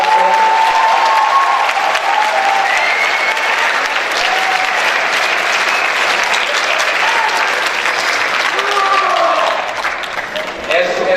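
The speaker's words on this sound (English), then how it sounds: "One more round of applause for them." A school assembly audience applauding student performers, with loud, sustained clapping filling the room that tapers slightly near the end.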